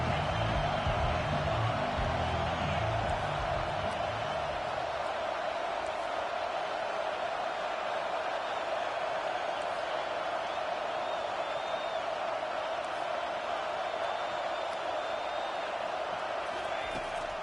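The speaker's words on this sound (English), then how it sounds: "Decibels rising as the crowd gets behind this defense on 3rd down." A steady, loud stadium crowd roar from a college football video game, swelling during a third-down defensive stand and holding as a continuous, dense wash of noise for the whole stretch.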